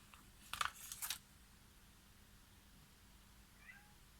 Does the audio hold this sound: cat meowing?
yes